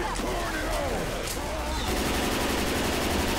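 Rapid gunfire from the Left 4 Dead 2 video game during a modded tank encounter, loud and dense bursts that carry on without a break, with game sounds and voices mixed in.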